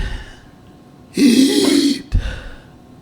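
A man's harsh, heaving cough bursts out loudly for about a second, followed by a short second cough, with quiet breathing before and after.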